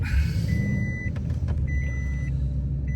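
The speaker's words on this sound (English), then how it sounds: "Well, we're loaded up in the truck." A pickup truck pulls away at night, heading out onto a rural South Dakota road, its engine a steady close low rumble with faint intermittent beeping tones over the top and no talking.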